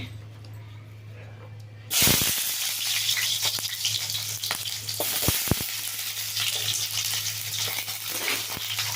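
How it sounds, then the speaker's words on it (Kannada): Onions sizzle loudly in hot oil with roasted masala for a brinjal gravy, a sudden burst of frying that starts after a quiet moment and stays as a steady hiss, with occasional sharp crackles and spoon scrapes. "ಈರುಳ್ಳಿ ಚೆಂದ ಫ್ರೈ ಆಗಬೇಕು"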